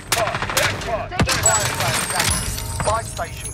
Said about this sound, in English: He's shooting from the left.